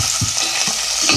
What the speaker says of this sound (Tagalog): Igisa, lagyan ito muna ng mantika. Lagay ang sibuyas at ang luya.